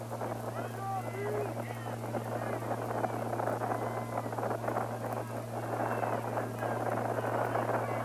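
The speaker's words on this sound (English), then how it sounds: "that wind is getting stronger by the minute" Strong wind buffets the microphone at a November 1981 nine-man high school football quarterfinal in Minnesota, a steady rushing roar that persists throughout beneath a commentator's voice.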